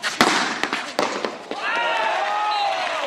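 A tambourin match in the final between Vendémian and Cazouls-d'Hérault: a few sharp, hard smacks of the ball being struck ring out over a commentator's voice and a steady crowd roar.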